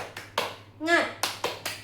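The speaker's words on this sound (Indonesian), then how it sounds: "Oke, tepuk semangat." A class of children doing the tepuk semangat clapping chant, sharp rhythmic handclaps in a quick pattern, close and loud, with a shouted voice in the middle of the sequence.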